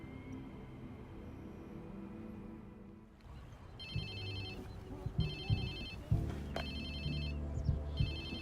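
A phone rings in the video game Watch Dogs 2, a repeating electronic ringtone in regular bursts over low game ambience and music, with occasional thumps.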